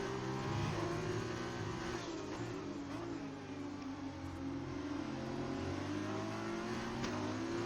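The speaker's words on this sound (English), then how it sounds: "Boss Cookie's car coming into the pit." Formula-style race car in an online racing game league, its engine droning with a strong steady tone at the Brazil circuit as it enters the pit lane, revs shifting slightly, with no talk over it.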